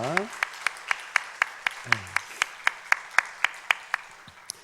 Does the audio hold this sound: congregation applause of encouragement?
yes